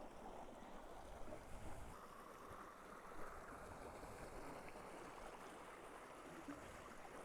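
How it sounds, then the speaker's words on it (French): Water from a small waterfall and a tannin-colored woodland stream rushes in a steady broadband wash, continuous and moderately distant, with no voices over it. "Ah, il y a une cascade."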